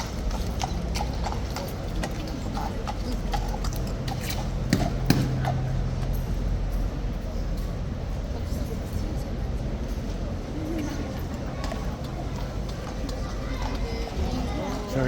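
Steady clip-clop of horse hooves close by, continuous and rhythmic, with background chatter and ambient noise throughout.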